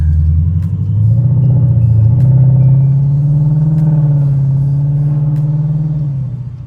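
A Lexus RC F V8 with PPE headers rumbles loudly and steadily close by, its deep exhaust note rising slightly as the revs build, then easing back near the end, with no talking.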